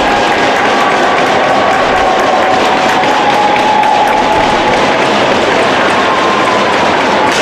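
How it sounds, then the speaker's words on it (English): A crowd at a West Virginia University versus Mercyhurst college ice hockey game in the Morgantown Ice Arena keeps up a loud, dense roar of cheering and clapping throughout. "Crowd gets into it a little bit here."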